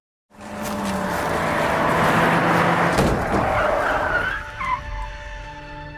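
Car accelerating hard on a road, its engine and tires building into a loud, close rush and skid before it pulls away, with no voices.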